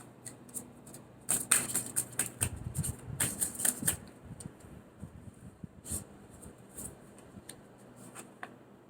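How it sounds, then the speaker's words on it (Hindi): Cards from a deck are shuffled and handled during a card reading, making soft papery flicks and riffling bursts clustered in the first few seconds, then sparse faint taps, quiet and close. "उसका एक कार्ड निकालते हैं"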